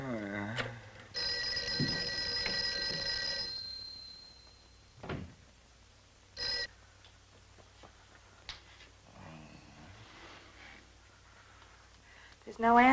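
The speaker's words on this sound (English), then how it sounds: "Mary, see if you can get Jan on the phone." A telephone rings repeatedly with no one picking up, in a 1959 horror film scene, bright ringing bursts in the first few seconds, then quieter room noise with scattered knocks.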